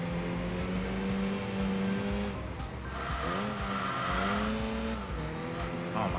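A Jaguar race car with a racing transmission and supercharger in Enthusia Professional Racing: a steady, loud engine drone rises and falls through gear changes, with tire squeal and skidding noise layered over it, and no talk.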